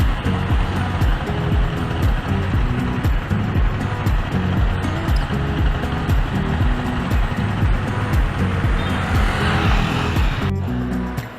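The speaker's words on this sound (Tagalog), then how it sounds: "Traffic." Road traffic on Santa Rosa-Tagaytay Road: loud, continuous engine rumble from nearby vehicles with pulsing motor tones and a wind-like hiss throughout.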